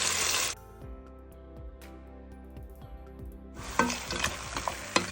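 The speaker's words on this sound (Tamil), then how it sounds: "மட்டனை சேர்த்து கிண்டிக்கலாம்" Mutton, 1.5 kilograms of it, is added to onions in a hot pan, and a spoon clatters as it stirs. Loud sizzling at the start drops away during the stirring, then swells back up. Close, with no talking.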